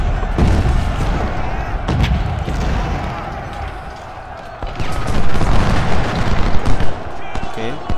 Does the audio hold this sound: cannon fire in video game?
yes